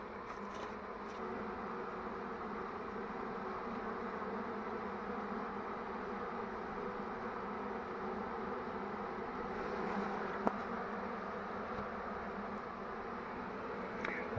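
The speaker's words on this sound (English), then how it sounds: "Down here there are bees around the entrance." Bees swarming around the entrance of a partly covered box during a swarm removal from a wall, a faint steady buzzing hum that carries on throughout with one brief sharp tap near the end.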